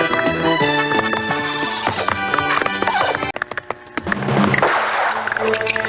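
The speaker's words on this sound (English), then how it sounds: "He then breaks into Monaco's compound on a horse" Horse galloping into a compound, rapid clip-clop hoofbeats with a loud neigh partway through, under dramatic music and shouting voices.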